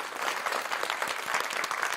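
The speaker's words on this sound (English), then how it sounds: "well-deserved round of applause for each of these papers and their authors" A conference audience at a high-performance graphics gathering applauds the authors of research papers, dense steady clapping from many hands filling the room for about two seconds with no voices over it.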